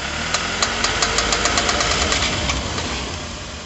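Rapid, regular clicking ticks from a worn CV joint as a car turns, over a loud running engine, a steady mechanical knock repeating several times a second close by.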